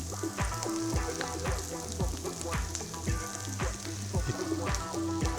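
Vegetables and chili flakes frying in a wok for jjamppong: a constant sizzle with rhythmic scraping and clanking of stirring, close and busy throughout, with a voice faintly underneath.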